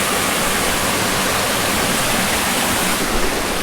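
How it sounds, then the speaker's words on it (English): A waterfall at a swimming hole in the Arizona desert roars as a steady, loud broadband rush of falling water with no pauses, heard alone and close by. "this looks like a beautiful little swimming hole with a waterfall on this side right here."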